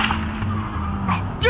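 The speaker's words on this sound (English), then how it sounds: "is this guy trying to drive us off the road? Just drive faster." Tires skid and an engine strains during a car chase in the video game Telltale Batman, a short, loud burst of screeching and rumble with a brief lull before a second squeal at the end.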